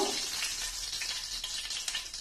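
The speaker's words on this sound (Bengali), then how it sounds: "গোটা গরম মশলাটা দিচ্ছি, আর যে তেজপাতাটা রেখেছি সেই তেজপাতাটাও দিয়ে দিচ্ছি।" Whole garam masala spices and a bay leaf sizzle steadily in hot oil, a dense close crackling hiss with small pops and a faint stir, no voices.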